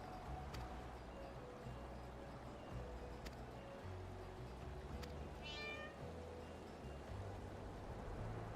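A pet cat meows in the Final Fantasy XIV video game, a short series of game meows heard over a steady bed of water and boat-like ambient game sound.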